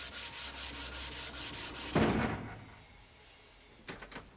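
Steady rhythmic strokes of sanding on a walnut wood beam filled with wood putty, about eight even rubbing passes close by, followed by a single heavier scrape and then a few faint strokes.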